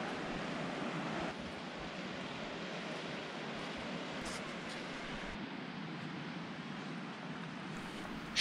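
Ocean waves breaking on Kalapathar beach on Havelock Island at sunrise, a steady broadband wash of distant surf over a rocky, dead-coral shore with no voices.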